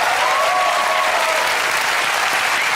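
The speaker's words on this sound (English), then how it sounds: "Natalie Holt, everyone, give her a round of applause" A studio audience at a comedy quiz show breaks into loud, sustained applause that fills the space evenly throughout, with no talk over it.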